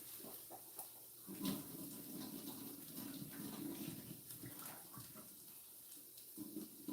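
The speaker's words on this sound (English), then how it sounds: "We're gonna throw some of this water out of this pot here." Water poured out of a cooking pot in a home kitchen, a soft splashing gush with uneven surges, quiet and close, with faint clinks around it.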